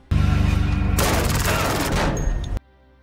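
A loud, fast burst of gunfire rattles close by for about two and a half seconds, then stops abruptly.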